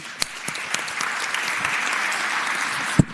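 Applause fills the Virginia Senate chamber for a few seconds, a dense wash of clapping from the floor and gallery with a couple of sharper nearby claps standing out, the last one loud right at the end.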